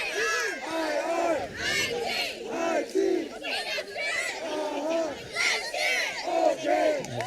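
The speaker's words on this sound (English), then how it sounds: "The cheerleaders calling out the Spirit chant. The crowd is getting into it." Cheerleaders shout a rhythmic spirit chant at a high school football game between two Tiger teams, Albert Lea visiting Belle Plaine, with the crowd yelling along in loud, repeated bursts over steady stadium murmur.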